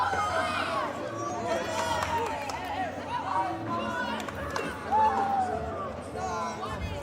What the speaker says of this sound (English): The crowd's crazy.